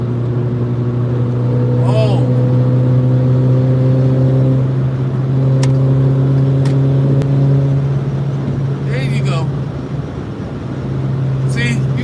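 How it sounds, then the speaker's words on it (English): A Ford Mustang accelerates through traffic, its engine a steady loud drone with a rising pitch, mixed with other road noise while people talk over it. "Got to move through traffic the way the Mustang moving through traffic to get my attention."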